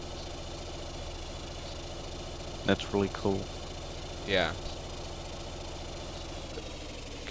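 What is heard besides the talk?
submarine diesel engine running, video game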